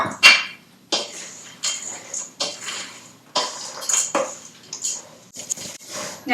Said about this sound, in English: when you're mixing all the ingredients together, make sure that you're mixing thoroughly